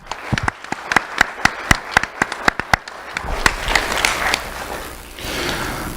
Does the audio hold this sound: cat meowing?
no